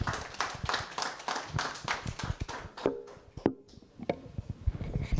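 Audience at a national symposium on ending violence against children clapping after a speech, dense overlapping hand claps that thin out midway and then pick up again, with a few isolated louder claps.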